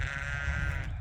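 A first-day newborn lamb bleats on a sheep farm during lambing season, a single close, loud, wavering cry lasting about a second with a low background rumble beneath it.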